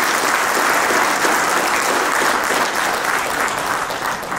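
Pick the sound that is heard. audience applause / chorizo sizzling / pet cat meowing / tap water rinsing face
audience applause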